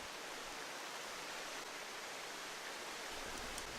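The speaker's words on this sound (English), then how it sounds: "Look at the waterfall. It's gorgeous." A waterfall in the autumn-coloured world of the game Tengami sends up a soft, even hiss of falling water, constant and fairly faint, with no one speaking.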